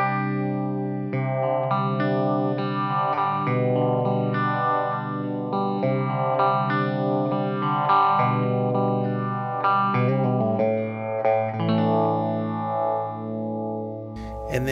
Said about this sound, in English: all the way over to the left, we're going to have a sound that's a bit more chorusy